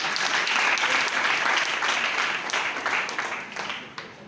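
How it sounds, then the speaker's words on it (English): A church congregation breaks into sustained applause, loud and dense at first and then gradually thinning and tapering off toward the end. "Give a clap for him."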